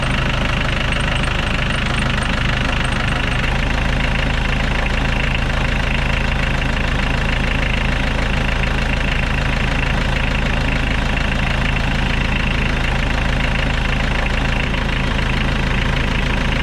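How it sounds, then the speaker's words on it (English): A 1986 Ford Ranger diesel engine fires up and settles into a steady, loud idle with a continuous knocking clatter close by, alone with no talk. "The engine always fires right up without any more cranking than that."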